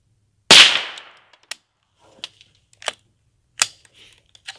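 Gunshots from a firearm fired at a pumpkin to carve it: one loud, sharp close blast with a ringing decay, followed by several fainter clicks and clacks of the gun and target.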